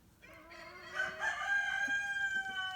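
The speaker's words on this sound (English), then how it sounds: "Screech has a soprano crow, right?" Screech the rooster crows once in a high, soprano-pitched cock-a-doodle-doo, a long sustained call that rises and holds clearly over a quiet outdoor background.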